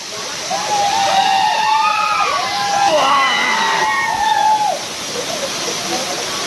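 The Chorgalli waterfall rushes steadily in the background while people bathe nearby. Lively voices and shouts sit prominently over the constant roar of the water.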